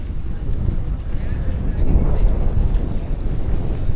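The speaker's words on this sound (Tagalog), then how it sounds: "Grabe, lakas ng hangin dito sa Bakawan, no?" Strong wind at Bakawan on Boracay buffets the microphone with a loud, continuous low roar and rumble, gusting steadily throughout.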